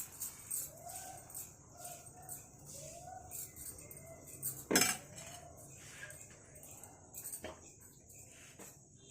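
Dosa batter is spread across a hot pan in quiet, rhythmic circular swishes. Metal clinks and one sharp clatter of cookware break in, and faint birds chirp in the background.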